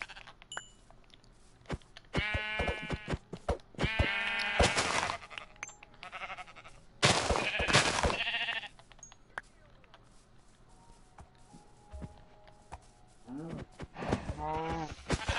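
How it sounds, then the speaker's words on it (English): Blocky sheep in the video game Minecraft bleat in several harmonic bursts, loud and close, with short gaps between calls and a player talking between them. "there's a ton of sheep over here."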